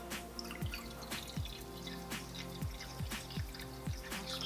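Vinegar poured from a container into a bowl, heard as a steady trickle with a run of distinct drips and splashes landing close by, no talking.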